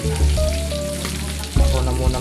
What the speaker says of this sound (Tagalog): Chicken joy po, niluluto ng asawa ko.